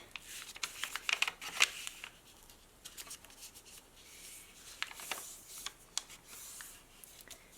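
A strip of paper being folded back by hand while making a paper crane: soft, close crinkling and rubbing with a few sharper crisp creases, quiet throughout.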